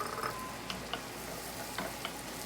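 Garlic sizzling in a pan with onions, a soft steady frying hiss with occasional light crackles and stirring clicks, faint and close, with no voices.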